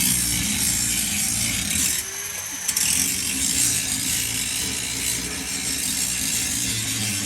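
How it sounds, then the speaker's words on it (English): A power saw cuts the leaf spring hangers off a fifth wheel trailer frame during a suspension upgrade, a steady harsh grinding whine running continuously with a brief dip midway. "cutting off all the leaf spring hangers over there"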